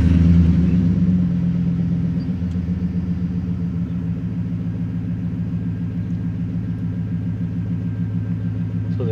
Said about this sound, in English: I'm gonna go ahead and turn the vehicle on.